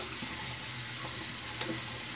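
Water runs steadily from a tap into a sink while a face is wetted before a shave, a continuous close hiss with faint splashes.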